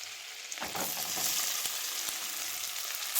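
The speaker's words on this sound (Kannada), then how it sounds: "ಆನಿಯನ್ ಗೋಲ್ಡ್ ಕಲರ್ ಫ್ರೈ ಆಗೋವರೆಗೂ ಹುರ್ಕೋಬೇಕು" Chopped onion frying in a pan of spiced oil for butter paneer, with a close, steady sizzle and a few scraping stirs of a spoon against the pan.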